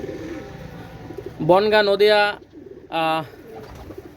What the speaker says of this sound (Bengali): একজোড়া ওমান টেডি কবুতর মাশাআল্লাহ